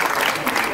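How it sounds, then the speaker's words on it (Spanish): An audience gives loud, steady applause for a rondalla at a cultural event, a brief, dense wash of clapping. "Les he de pedir también un aplauso fuerte para esta rondalla"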